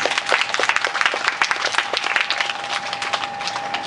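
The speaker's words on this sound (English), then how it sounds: "Let's please give her a round of applause." An audience at a children's book launch in an opening program gives a round of applause, steady dense clapping filling the room and slowly easing off, with a faint steady tone underneath.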